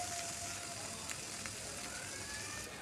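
Green-chilli spice paste sautéing in oil for a katla fish curry with raw mango gives a steady, fairly quiet sizzling hiss that runs unbroken, with a few faint crackles and no voices.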